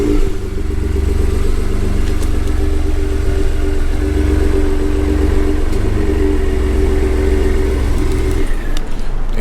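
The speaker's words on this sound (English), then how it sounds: "the Resonator delete does give it a nice little rumble at startup" A Ford F150 EcoBoost pickup with a resonator delete idles after starting, giving a loud, steady low rumble close by that changes and drops off near the end. No talking.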